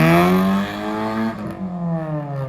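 A Honda with a VTEC engine drives over speed bumps at a Japanese car meet, its engine note a strong, close rising tone that dips and climbs again as it passes.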